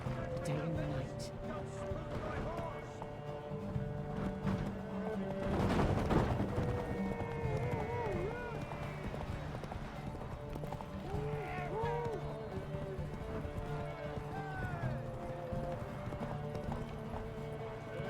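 Roach, Geralt's horse in The Witcher 3, gallops with steady rhythmic clip-clop hooves over a game music bed, with a brief louder burst midway and talk in places.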